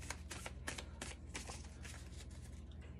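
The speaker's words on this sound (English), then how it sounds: "I was sitting here shuffling these cards" Oracle cards being shuffled by hand, a steady run of soft papery riffles and flicks, close and fairly quiet, with no talking.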